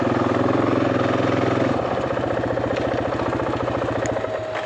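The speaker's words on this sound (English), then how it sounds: "looks like a place I can park my motorcycle" A motorcycle engine idles close by on a mountain road, a loud, even, rapid low thumping that keeps a steady rhythm throughout with no voices.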